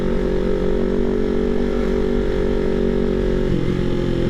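Several motorcycles riding along Villarica Road, a loud, continuous engine drone with steady harmonic hum, shifting slightly in pitch near the end as riders pass close by.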